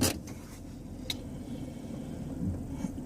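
A car with no working rear brakes shudders as it moves, its load thrown onto the transmission; a steady low rumbling drone runs throughout, with a couple of faint knocks.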